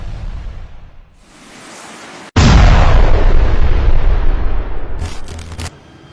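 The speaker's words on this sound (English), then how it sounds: "how Ukraine's latest Javelin anti-tank missile destroys Russia's best armored vehicle after getting an upgrade" A Javelin anti-tank missile strikes an armored vehicle, giving a sudden loud blast that settles into a long roaring rumble. A quieter hiss comes before the blast and a few sharp crackles follow it.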